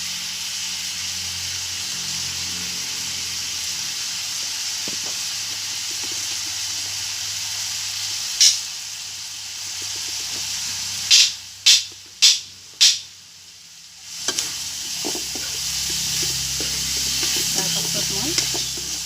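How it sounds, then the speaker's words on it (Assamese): Vegetables, tomato and local chicken fry in a pan with a steady close sizzle, broken by a few sharp knocks of a spoon against the pan before the frying hiss resumes. "এতিয়া মই এইখিনি সকলোখিনি সিজালৈকে ভাজি ল'ম"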